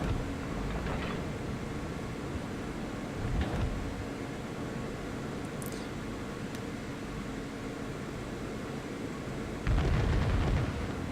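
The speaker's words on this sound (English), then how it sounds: "as I round the island I fire off another broadside towards him." A battleship fires a broadside in a naval video game, a heavy booming blast near the end after a couple of duller thuds over a constant rumbling background, with no speech.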